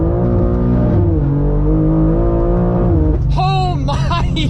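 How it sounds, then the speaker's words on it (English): A 720-wheel-horsepower 2023 BMW M2 accelerates hard in first gear from inside the cabin, its engine note rising steadily and loud, then shifting up as the tires spin. "let's try a first gear pull here"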